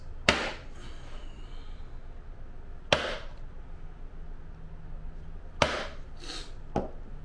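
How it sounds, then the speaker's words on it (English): A hole punch strikes through a leather zippered piece for a tote bag in four sharp, separate impacts spaced a few seconds apart, close and crisp against a quiet room. "we're gonna just take a hole punch here, punch through these existing holes on this zippered piece"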